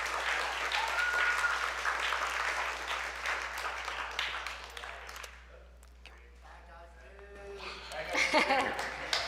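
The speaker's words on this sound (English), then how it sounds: "Give them another round of applause" An audience applauds the crew behind The Bad Guys 2, a dense burst of clapping that fades away, then a voice speaks briefly near the end.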